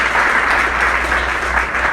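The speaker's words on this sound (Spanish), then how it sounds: "Alguien aplaude en esta mañana al Señor." Church congregation applauding during a Spanish-language Christian sermon, a dense, steady wash of clapping that holds loud and even throughout with no speech over it.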